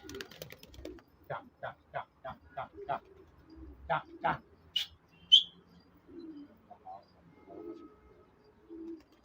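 Pigeons coo in a run of soft, repeated calls, with a few chirps and a short, quiet stretch of talk nearby.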